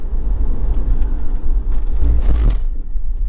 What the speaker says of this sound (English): less of the sound of my car shaking itself to pieces as I drive down the road